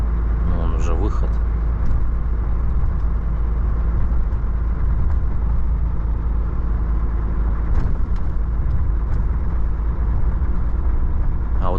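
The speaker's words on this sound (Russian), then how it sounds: "вот это вот легковушки вот едут" Passenger cars drive across the Yakutsk–Nizhny Bestyakh ice crossing, a steady, continuous engine and road rumble that stays even throughout, with people talking over it.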